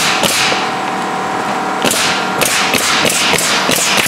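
A staple gun drives staples into the roof deck of a 2013 Viper during a roof replacement: sharp, loud cracking snaps, a few spaced ones, then a quicker run of shots toward the end.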